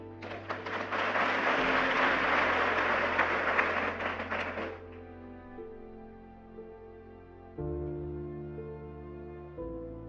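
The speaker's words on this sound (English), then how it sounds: "Give yourself a round of applause if you agree with me." An audience at a public speech gives a round of applause, a broad, fairly loud patter of many hands lasting about four seconds over a sustained organ-like musical drone that continues after the clapping fades.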